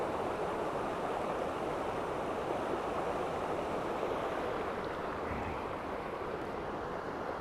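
Steady broadband rush of river water flowing past a mill, a continuous loud wash with no breaks and no voices, like water returning to the river from a mill race.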